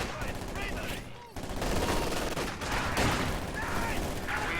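T-70 light tank firing on infantry in Company of Heroes: rapid bursts of machine-gun fire and crackling gunfire in a busy battle, punctuated by a brief lull, with commentary over it.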